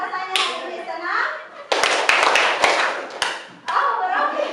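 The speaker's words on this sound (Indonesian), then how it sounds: "kalau senang tepuk tangan 3 kali" Schoolchildren in a classroom clap their hands in a burst of quick, sharp, loud claps between stretches of an adult and children talking.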